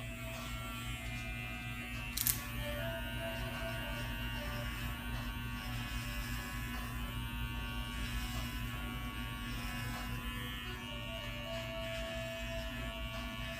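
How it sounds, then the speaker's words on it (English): Electric hair clipper buzzing steadily and close up as it cuts hair on the sides of a head, a continuous motor hum with a brief louder scrape near the start. "The biggest mistake people make with the clipper is they put too much pressure on the side of the head."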